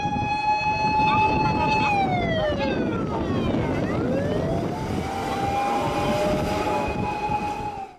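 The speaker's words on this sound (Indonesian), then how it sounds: "Di sini ada mobil pemadam kebakaran." A fire truck siren wails, sweeping up and down, loud and close, over a dense rumbling background noise, with the pitch rising and falling throughout.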